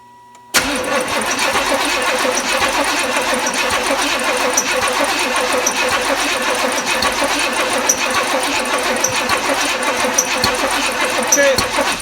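The engine of a 1992 Chevrolet Camaro B4C 1LE cranks loudly and steadily after a brief quiet start, a continuous rapid churning starter drone that runs for the rest of the stretch without catching.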